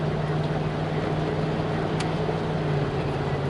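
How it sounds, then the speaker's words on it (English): A car engine idles steadily on a crisp, cold morning while warming up, a continuous low hum with a faint tonal drone running throughout, no voices. "I'm just waiting for my car to warm up"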